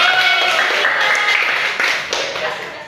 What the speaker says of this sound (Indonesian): tepuk tangan untuk Syakira